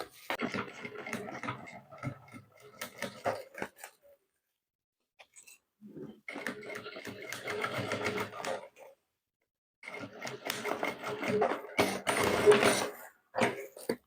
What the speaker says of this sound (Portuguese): vou colocar o meu viés para me ajudar na hora de costurar